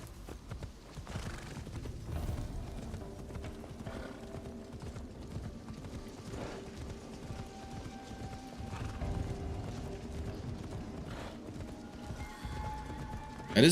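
In Assassin's Creed Shadows, a horse's hooves clop along in a steady running rhythm across the whole stretch, with a neigh rising over the busy game ambience and a faint voice occasionally in the mix.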